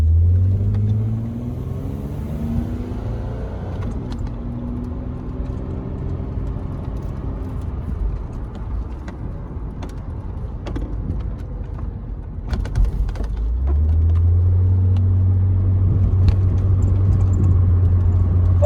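A Nissan 300ZX Z32 driving around town, heard from inside: engine tones rise and fall through gear changes, settle into a low cruising rumble, then swell into a steady louder drone, with scattered small clicks and rattles.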